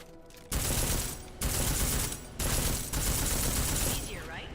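Sustained gunfire with armor-piercing rounds in Deus Ex: Mankind Divided, loud bursts of rapid automatic fire in four long stretches separated by brief pauses, with no speech over it.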